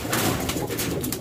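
Giribaz high-flying racing fancy pigeons coo softly in a steady, low murmuring stream from close by, with no voices heard.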